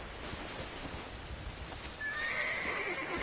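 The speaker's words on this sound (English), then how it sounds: "My horse is whinnying." A horse whinnies in Red Dead Redemption on PS5, a rising, shrill neigh that starts about two seconds in and carries to the end over steady, clopping hooves and ambient game noise, fairly close with no talking.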